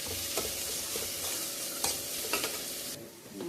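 Onions and horse gram fry with salt in a pan, a soft steady sizzle broken by several scraping strokes of a stirring spoon, fairly quiet and close.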